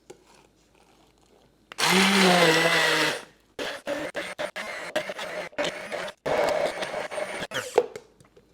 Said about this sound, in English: we're going to blend with the stick blender